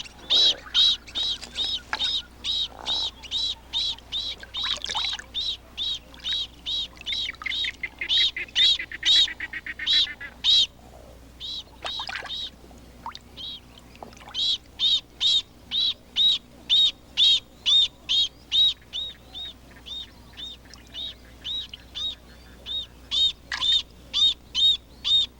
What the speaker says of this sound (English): When the lotus bird glimpses Boloko, the water python, he is ready to defend his nest.